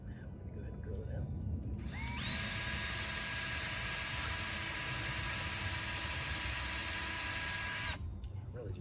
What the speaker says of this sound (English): Now I'm going to go ahead and drill it out.